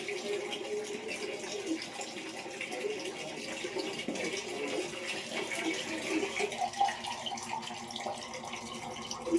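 Tap water runs steadily while a face is washed with soap at a sink, a continuous splashing hiss with small bursts, close and moderately loud, with no talking.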